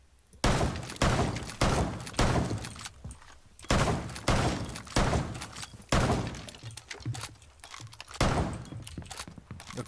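Loud, repeated bursts of automatic gunfire in Rainbow Six Siege on the Coastline map in bomb mode, close and sharp, with short pauses between volleys and no talking.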